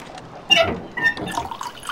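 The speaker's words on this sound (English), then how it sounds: "a slow drip there." Slow water drips in the Midnight Mysteries 6: Ghostwriting game, a few soft separate plinks and trickles falling at uneven intervals, close and fairly quiet.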